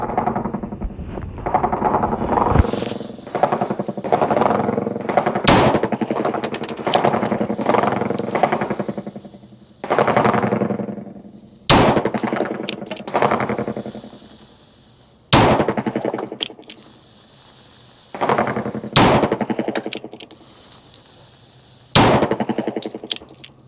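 A duty handgun fires duty ammunition in about six sharp, loud shots spaced a few seconds apart, with quieter noise filling the gaps between them.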